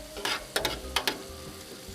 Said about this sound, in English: That's good for this ground beef, so especially cooking with that seasoning. And let that all cook up.